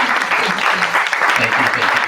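A live audience at a talk on ketamine-assisted psychotherapy claps steadily to welcome guests, a dense, even wash of applause throughout, with a voice briefly audible under it.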